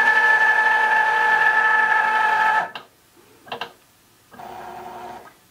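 A Cricut Joy Xtra cutting machine whirs steadily with a tonal motor hum, then stops, followed by a couple of short mechanical movements and another stretch of quieter motor running, all close by.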